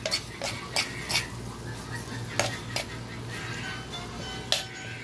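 A squid dish is stirred in a pan, with a spatula clinking against the metal in irregular scrapes and taps over a low, steady cooking hiss.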